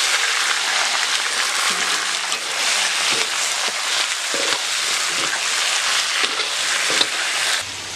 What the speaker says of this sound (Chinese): 鱼下锅